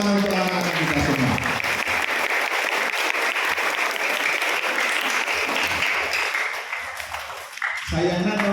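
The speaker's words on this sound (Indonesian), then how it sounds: "Boleh tepuk tangan untuk anak-anak kita semua" Loud, dense applause from a crowd in a school hall for students at an Islamic junior high school speech event. The clapping runs steadily for several seconds and then fades, with a voice briefly heard at the start and end.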